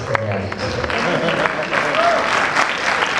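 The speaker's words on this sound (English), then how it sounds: "I don't know that you should be applauding that, by the way." A live audience applauds at VidCon: dense, sustained clapping fills the whole stretch at a steady level, with voices mixed into the crowd noise.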